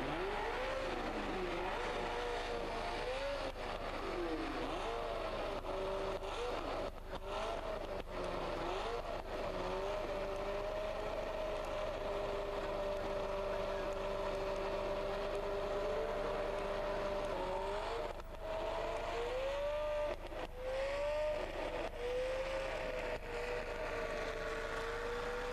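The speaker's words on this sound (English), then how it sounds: "Peter Wensch again, spinning the BRM P261." Vintage BRM P261 Grand Prix racing car, pre-1966 era, at the historic Monaco Grand Prix, its engine note loud and sustained with pitch rising and falling as it revs, mixed with other cars, crowd noise and a commentator talking.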